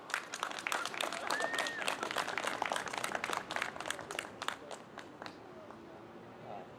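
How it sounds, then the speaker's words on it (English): Audience applause at a 2018 political kick-off event for an Assembly District candidate, dense clapping over the first five seconds and then thinning out and fading away. "Please give a nice round of applause for David Lautenschlager."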